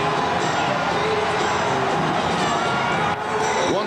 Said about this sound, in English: This is the biggest New Year's Eve crowd I've ever seen in the almost 30 years I've been hanging around here.